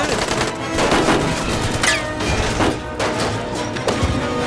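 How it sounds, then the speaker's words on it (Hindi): Rapid bursts of gunfire crackle through a dense, loud action soundtrack, with sharp cracks and crashes layered over a constant rumbling background. "ओए गोली चला रहे हैं ये लोग तो"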